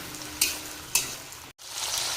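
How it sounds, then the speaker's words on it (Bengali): Chopped onion sizzles lightly in hot oil in a Bengali home kitchen, a steady frying hiss broken by two sharp stirring scrapes and a brief dropout, close and loud with no voices. "পেঁয়াজ কুচিটা একটু তেলের মধ্যে হালকা ভাজা ভাড়া করে নিয়ে বাকি মশলাগুলো দেবো"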